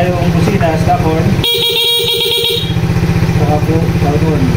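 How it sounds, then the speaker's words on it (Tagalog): A short, bright Suzuki Smash motorcycle horn honk lasting just over a second sounds over a steady idling engine. "Meron po tayong busina, stop horn."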